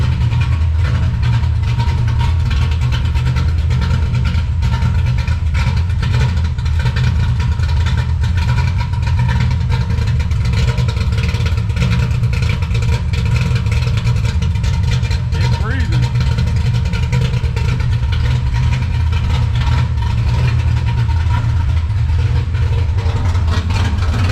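A 1988 Chevrolet Monte Carlo V8 idles steadily after a muffler swap, a loud, continuous low rumble from close by throughout, with faint talk over it.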